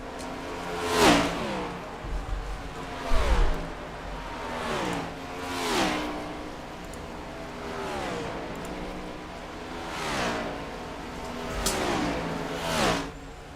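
Race cars lapping the track at the Sin City Crane Night of Fire at Las Vegas Motor Speedway, engines swelling and fading as cars pass in repeated waves every couple of seconds, loud and continuous with no voices.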